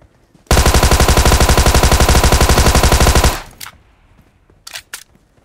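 Sustained automatic gunfire from a weapon in the video game PUBG, a loud rapid burst lasting about three seconds, followed by a few faint distant shots.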